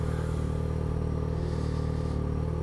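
Steady, loud Yamaha XJ6 motorcycle engine drone while riding, a constant low throbbing rumble with wind noise and no change in pace.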